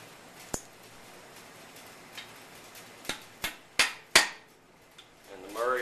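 Sharp metallic taps and clicks as a retaining pin is set into an SKS rifle bolt fitted with a Murray's firing pin, a few scattered strikes building to louder close knocks, ending in a brief rustle.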